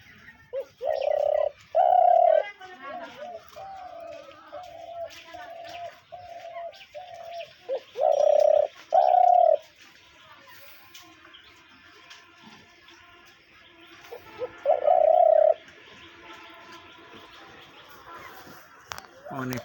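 Captive hunting doves kept for sale give repeated cooing phrases in bursts, several in the first ten seconds and another near fifteen, close and fairly loud over a quiet room background with faint chirps.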